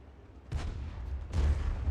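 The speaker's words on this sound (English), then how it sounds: "That shot hits the building." Artillery shell from an SU-8 self-propelled gun striking a building in a tank video game, two heavy low booms about a second apart, each a broad rumbling blast with no voices.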